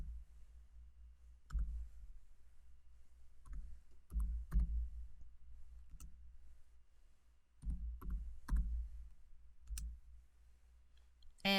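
Keyboard typing and mouse clicking on a computer while securities are entered into a list, heard as scattered bursts of soft taps in quick clusters over a low steady hum, with quiet gaps between the bursts.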